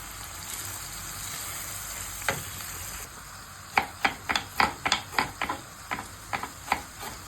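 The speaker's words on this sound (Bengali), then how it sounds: "আগে মাছটা ভাজি করে নাও" Small fish frying in a pan give off a steady close sizzle, then from about four seconds a run of sharp popping spits and crackles in a loose, uneven rhythm over the hiss.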